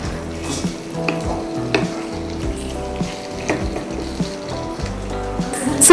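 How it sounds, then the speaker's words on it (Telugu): Deep-fried chicken pieces simmering in dragon chicken sauce in a pan, a continuous soft sizzle and bubbling with occasional stirring clatter, close and fairly quiet, with no talking. "సాస్లో మనం డీప్ ఫ్రై అయిన చికెన్ పీసెస్ని వేసుకున్నాము. ఇంకో 3 మినిట్స్ అది అలా కుక్ అయినట్లుగా అయితే మన డిష్ అయిపోతుంది."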